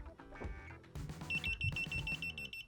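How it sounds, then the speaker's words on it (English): Standalone water leak detector sensor beeping after water is applied, a steady high-pitched electronic beep pattern that starts partway through, near and clear over handling noise and background sounds. "It is beeping"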